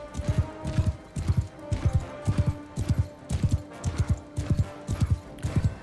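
Rhythmic clip-clop of a horse's hooves in a Mount & Blade II Bannerlord battle, a steady loud galloping beat of paired thuds repeating throughout with faint background game noise.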